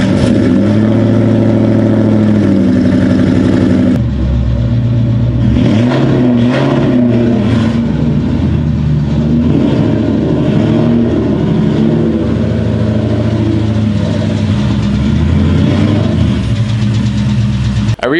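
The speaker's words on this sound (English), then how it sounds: "First up, we're gonna back the Mustang in the garage." A Ford Mustang's engine runs loud and close while being backed into a garage, a steady idle rumble that swells into uneven revs and rough, lumpy surges, then settles back near the end.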